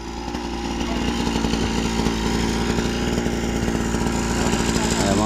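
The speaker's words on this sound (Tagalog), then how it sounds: "Dala ko pala yung grass cutter." A grass cutter runs steadily throughout with a continuous buzzing engine drone while a building site is cleared for a new apartment project, sounding close and loud, with people talking faintly underneath.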